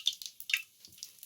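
Mustard seeds hitting hot oil for a Gujarati drumstick kadhi, giving brief crackling pops and hissy spits in quick uneven bursts, close up and fairly soft.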